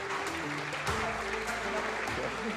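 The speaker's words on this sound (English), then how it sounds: "Can we have a round of applause for them?" An audience at the Under-23 World Squash Championships applauds two legends of Pakistani squash, steady clapping with a voice talking over it.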